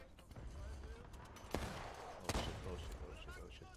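Musket gunfire in the Civil War video game War of Rights, with two sharp, sudden shots over a busy battlefield din, faint and somewhat distant, as voices call out orders.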